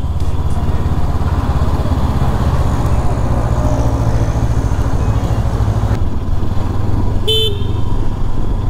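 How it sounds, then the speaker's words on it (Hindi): A Honda 500X adventure tourer motorcycle gives one short horn toot near the end, riding over a steady, loud engine rumble and road noise. "हॉर्न ओके है"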